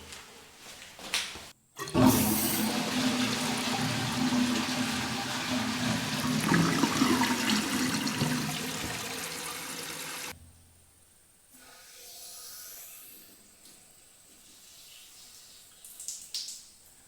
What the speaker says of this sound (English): Well, at least the toilet is working.